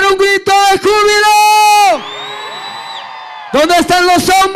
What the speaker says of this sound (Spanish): Nuevamente las mujeres en este lugar, un grito de júbilo.